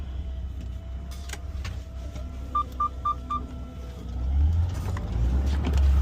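A semi truck backs up slowly toward a set of doubles trailers, its engine idling low and steady while a short run of four reverse-alarm beeps sounds midway, then the engine swells louder near the end.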